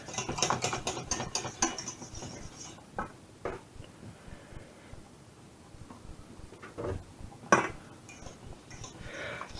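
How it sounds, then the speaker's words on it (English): A whisk stirs milk into a macaroni cheese sauce in a pan, with quick scraping and clinking strokes in uneven bursts and short quiet gaps between them. "So just kind of keep whisking every time until it's smooth."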